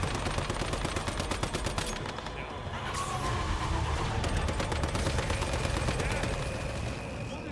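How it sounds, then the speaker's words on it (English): Sustained assault rifle fire in the Once Human video game, rapid automatic bursts rattling almost continuously with a brief pause, loud and close, over a busy game soundscape. "And then just dump assault rifle into her."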